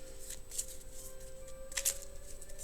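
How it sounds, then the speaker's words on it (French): Lenormand tarot cards being shuffled by hand, a quiet run of soft papery riffles and flicks with a couple of brighter snaps near the end, close and low in level with no talking. "je bats les cartes devant vous"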